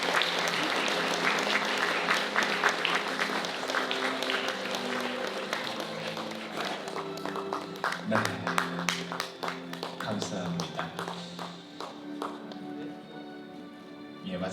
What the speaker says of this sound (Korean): 박수로 화답해 주시길 부탁드리겠습니다